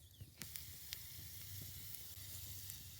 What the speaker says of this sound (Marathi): आपलं तेल गरम झाले थोडस लसूण टाकून घेऊ